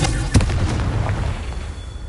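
Spell blast from the Confringo fire curse in the video game Hogwarts Legacy: a single sharp burst early on, then a lingering low rumble and crackle fading across the short stretch.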